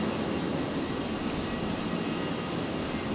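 A departing airliner taking off from runway 01 right at Brisbane Airport, heard as a steady, broad engine roar held at an even level with no talk over it.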